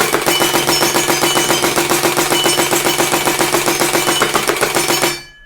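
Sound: M4A1 toy gun firing shots

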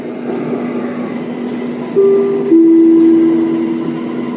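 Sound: Bangkok MRT Blue Line metro train at Fai Chai station

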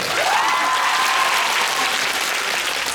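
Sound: audience applause at concert

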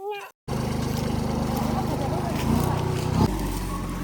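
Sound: tractor engine

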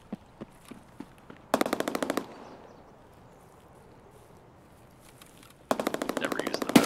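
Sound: machine gun fire in a video game

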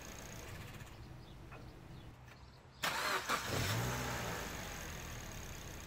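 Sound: car engine running with DIY polyurethane-filled engine mounts

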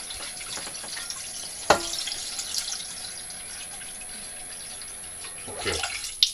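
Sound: water running from tap into pot

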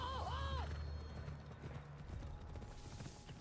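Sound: horse galloping and neighing in video game

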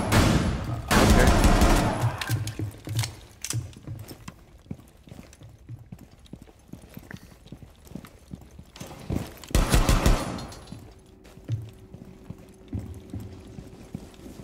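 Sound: gunfire in the video game Rainbow Six Siege

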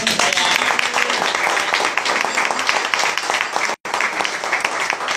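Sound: audience applause at a panel discussion

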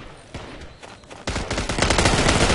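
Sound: gunfire from a shooting video game

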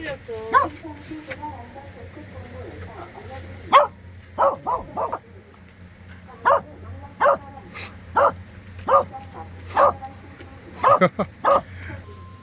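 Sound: dog barking

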